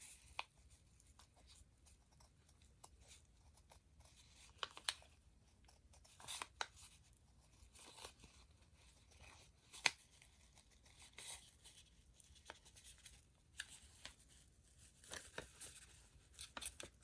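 Scissors snipping through felt while cutting out a shape, soft scattered crunchy cuts and light rustling of fabric, very quiet and close with no talking.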